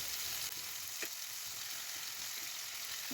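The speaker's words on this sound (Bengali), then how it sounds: "একইভাবে আবার বাকি মাছগুলোকেও ভেজে নিচ্ছি।" Bombay duck fish pieces frying in oil, a constant soft crackling sizzle with a couple of faint pops, heard alone at low volume.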